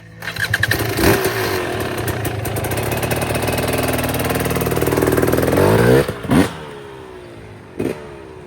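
A motorcycle is ridden nearby with a steady throttle drone, then revs rise and fall toward the end, with a couple of sharp blips as it passes.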